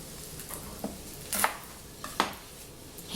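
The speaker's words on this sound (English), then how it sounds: "I'll cut the onions." Onions cut with a knife on a board for a shiitake teriyaki dish, a few sharp close chopping taps spaced irregularly against a quiet background.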